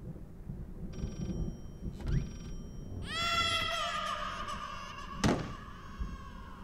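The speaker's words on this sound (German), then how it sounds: "Es ist wieder das Telefon da drüben." Telephone ringing in the horror video game Layers of Fear, a bright trilling ring that sounds in short bursts over a low ambient drone, with a sharp thud near the end.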